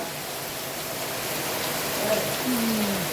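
Steady rain hisses down onto a waterlogged yard, a broad even wash of drops at constant level with a faint tone rising briefly near the end.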